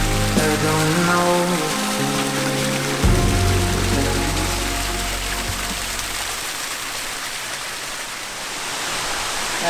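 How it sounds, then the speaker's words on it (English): Waterfall at the end of the PR6 hike on Madeira, a steady broadband rush of falling water that roars close and continuously, with a brief louder swell early on and no voices. "And I made it to the waterfall."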